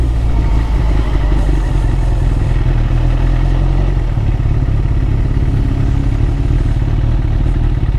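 A superbike engine runs loudly and close by with a constant, rumbling mechanical roar and clatter throughout, holding steady without a clear rise in revs.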